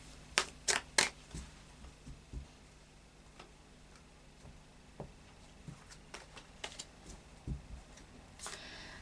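A deck of tarot cards is shuffled in short, irregular bursts of light clicking and riffling, close and fairly quiet in a calm room.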